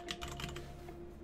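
Typing on a computer keyboard while entering a search in Microsoft Teams, a short burst of quick, close keystrokes clicking over a steady hum.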